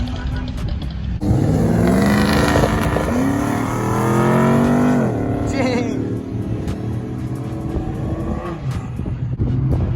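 A five-cylinder car leaving a car meet revs and accelerates hard nearby, its engine note climbing and then dropping as it passes, while people talk and cheer over it.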